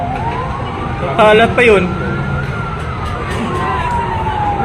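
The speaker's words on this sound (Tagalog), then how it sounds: "Kanina pang wangwang ng wangwang yung bombera" A wailing fire truck siren at a large fire in Mandaluyong City rises and falls continuously in the background, with a couple of short voices breaking in briefly over it.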